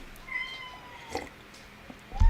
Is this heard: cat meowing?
yes